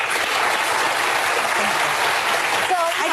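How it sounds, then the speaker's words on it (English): A studio audience on a daytime talk show claps in a dense, steady burst of applause that fills the whole stretch, loud and continuous, with a voice briefly surfacing near the end. "I just think it's weird to be clapping."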